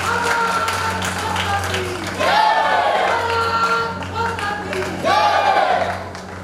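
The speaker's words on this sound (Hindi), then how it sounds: "जोरदार ताली से स्वागत करें।" Audience at a community organisation's foundation-day event breaks into loud clapping and cheering in two swells, mixed with crowd murmur and voices.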